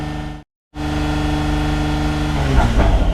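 A 2017–2022 Acura NSX engine holds a steady 3,000 RPM during an oil change, a loud, constant mechanical drone that cuts out completely for a moment near the start, then resumes unchanged.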